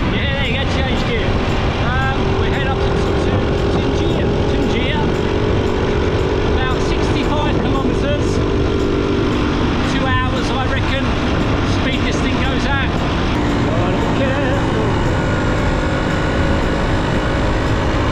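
A 50cc motorbike running after a clutch repair, its engine droning continuously and loud, with shifting revs and gear changes under steady talking.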